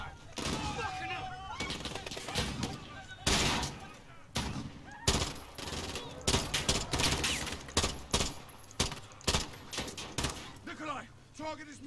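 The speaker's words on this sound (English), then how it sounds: "The gunshots, of course." Bursts of gunfire in Call of Duty: Modern Warfare, single shots and rapid volleys in irregular clusters, loud and close, with voices talking in between.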